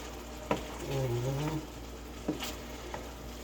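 Apples frying in margarine in a skillet give a steady, close sizzling hiss, broken by a couple of spoon scrapes and a brief vocal sound.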